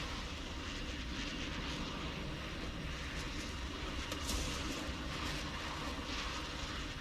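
A video game airplane engine drones continuously, a steady dense propeller roar heard from the aircraft's viewpoint, even and unbroken with no talking.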